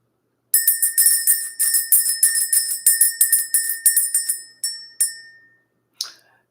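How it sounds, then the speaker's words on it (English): A small bell rings in quick repeated strikes, bright and metallic with a steady rhythmic pattern, then slows to a few last chimes and one final faint ring, close and with no talking. "We're going to ring the bell."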